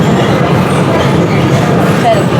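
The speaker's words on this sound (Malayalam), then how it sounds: "ഭയങ്കര സൗണ്ടാണ്. അടുത്തേക്കൂടെ ട്രെയിൻ പോകുന്നുണ്ട്." A train passes nearby as a loud, continuous low rumble with rolling noise that fills the whole stretch, with no clear breaks.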